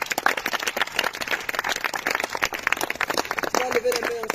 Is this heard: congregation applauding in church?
yes